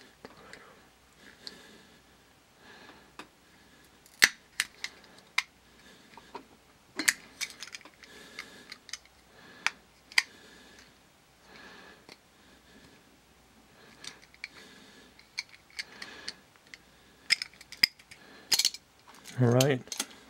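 A Hot Wheels die-cast toy car, its rivets already drilled off, is pried apart by hand: scattered sharp metallic clicks, scrapes and small rattles of loose parts over a quiet background, ending in a brief louder scrape.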